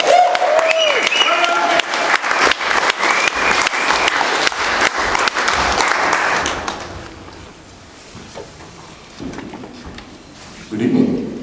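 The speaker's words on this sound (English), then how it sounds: "Big round of applause!" Loud, sustained audience applause at a poetry slam event greets poet Chris Arnold, then fades away into quiet room noise with small shuffles.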